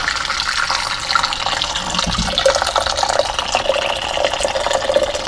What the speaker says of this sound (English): And now I'm going to pour the coffee into